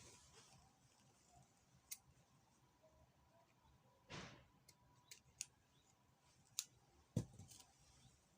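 Scissors snip the edges of fabric for a ruffled turban, a handful of quiet, sparse clicks and short cuts spaced irregularly against a faint room hush.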